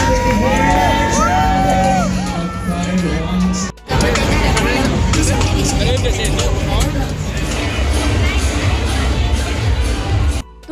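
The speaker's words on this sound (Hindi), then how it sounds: "बहुत ज़्यादा भीड़ भी रहती है।" A dense street crowd fills Bangla Road in Thailand with a constant babble of many voices, whoops and traffic rumble. Nearby speech is heard through it, and the din breaks off briefly twice.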